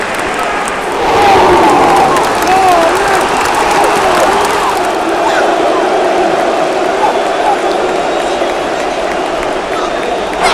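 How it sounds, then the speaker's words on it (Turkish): Everton fans in a full Premier League stadium roar and cheer a goal, a sustained, loud crowd wash with whistles and shouts rising early and holding steady, heard from nearby in the stands. "Evet, üst tarafımızda Everton taraftarları var. Onlar seviniyorlar şu anda."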